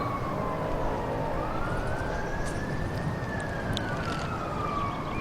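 An emergency siren wails somewhere in a city, rising and falling in one slow sweep over a constant wash of distant traffic noise.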